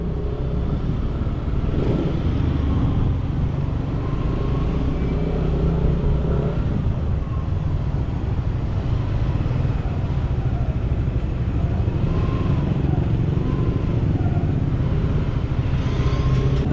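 Busy Sunday evening road traffic, cars and motorcycles passing steadily with engine rumble and occasional revving, a constant moderate wash of vehicles without break.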